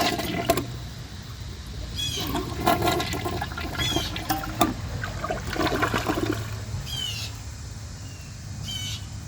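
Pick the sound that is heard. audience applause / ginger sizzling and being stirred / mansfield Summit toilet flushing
mansfield Summit toilet flushing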